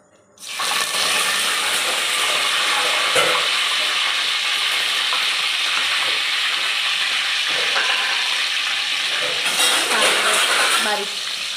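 Cumin, mustard seeds and leaves hit hot oil, bursting into a loud, continuous crackling sizzle that holds steady for about eleven seconds.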